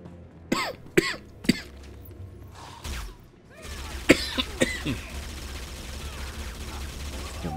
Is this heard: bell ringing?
no